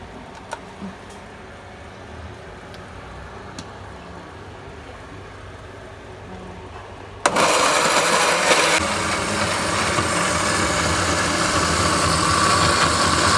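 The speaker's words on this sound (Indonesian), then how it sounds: "Praktis di blender aja." A kitchen blender whirring spices with oil for Ayam Taliwang switches on abruptly after a quiet stretch, then runs as a loud, steady motor roar for the last six seconds.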